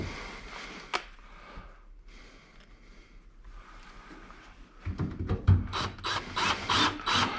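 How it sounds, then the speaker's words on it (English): Screws being started by hand into a part during assembly, heard as a brief sharp click, then quiet handling noises, before a run of rapid, loud ratcheting bursts near the end. "Let's get these screws started."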